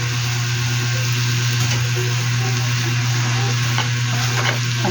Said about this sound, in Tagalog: Ihalo ko na ang pansit canton.